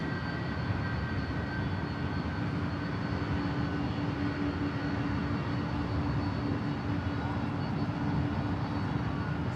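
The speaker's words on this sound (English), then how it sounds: "Got Asiana, flight 204, E380 Super. Gonna be flying directly over your head." An Asiana Airbus A380 jet flies directly overhead near Los Angeles International Airport, producing a loud, steady, continuous engine roar that fills the whole stretch without letup.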